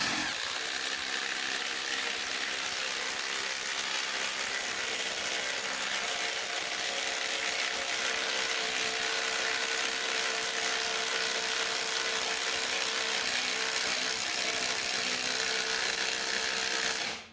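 A Ridgid subcompact drill with a 1-inch spade bit whirs steadily and loudly for the whole stretch, a continuous high-pitched grinding drone as the bit bores, then cuts off at the end.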